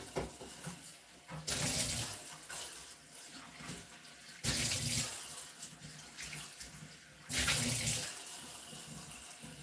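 A water tap runs into a sink in an art studio, filling a container in three loud bursts of rushing water separated by quieter pauses.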